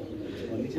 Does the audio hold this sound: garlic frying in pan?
no